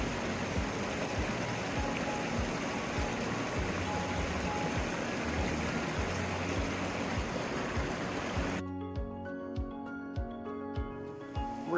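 A cold mountain stream on a Colorado hiking trail, a steady close rush of flowing water filling the scene without pause, no voices over it.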